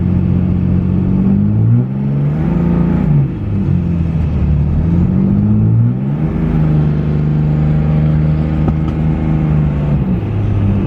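A 3rd gen Cummins diesel truck engine revs under acceleration, a loud continuous drone whose pitch climbs and dips through several pulls, with no talking.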